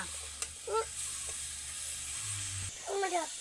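Sugar melting in a pan over very low heat for carrot sweets, giving a soft steady sizzle with light stirring scrapes, while someone talks over it.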